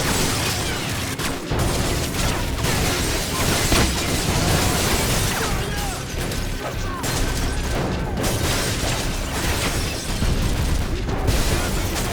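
Grenade explosions and gunfire in a modern warfare video game campaign, a dense, continuous barrage of booms, bursts and crackling blasts filling the whole stretch, with shouted voices mixed in.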